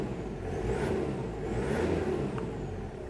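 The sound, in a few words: engine revving on a 1998 Toyota Hilux Surf 1KZ turbo diesel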